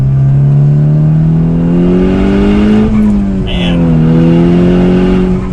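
An older Volkswagen Golf R engine pulls hard under acceleration from inside the cabin, a loud droning note rising steadily in pitch, dipping briefly at a gear change, then climbing again; a man makes a short exclamation partway through.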